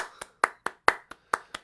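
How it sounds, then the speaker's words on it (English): A few sparse hand claps after a performance at an online song and poetry swap, about seven separate sharp claps spaced unevenly, moderately close and fairly quiet, with no talking. "Let's give a round of applause"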